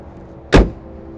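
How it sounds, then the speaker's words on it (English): A single firm thump as the hood of a 2018 Mercedes-Benz E400 Cabriolet is shut, close and loud against a quiet background. "let's go ahead and close the hood"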